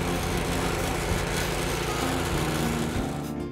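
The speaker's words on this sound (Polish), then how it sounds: "Cedrus GL01. Najlepiej sprzedająca się glebogryzarka w swojej kategorii." Close and loud, a Cedrus GL01 garden tiller's small Loncin G200F petrol engine runs at a steady, buzzing idle with a rapid even pulse throughout.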